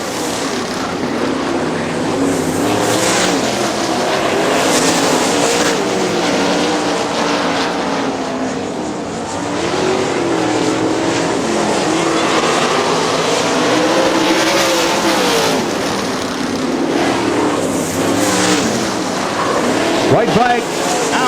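410 sprint cars race on the dirt oval at Butler Battlegrounds in Quincy, Michigan, their engines roaring loudly and continuously as they pass and fade, with a race announcer talking over the din.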